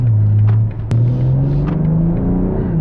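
A 2022 BMW M340i xDrive all-wheel-drive compact performance sedan accelerates hard, its engine a steady, loud rumbling drone that climbs in pitch through a brief gear change, heard close with no talking.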